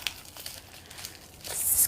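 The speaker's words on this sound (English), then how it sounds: "Let's see if I can open this out of the bubble wrap." Bubble wrap crinkles in brief, close rustles, growing into a louder crumpling burst near the end.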